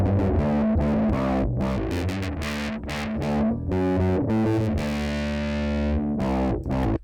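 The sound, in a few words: bass guitar through fuzz distortion pedal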